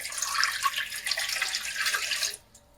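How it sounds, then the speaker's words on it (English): Warm water poured into a bowl to activate yeast for pita bread dough, a steady splashing trickle lasting about two seconds that stops abruptly, close and fairly quiet. "So I'm going to pour that in"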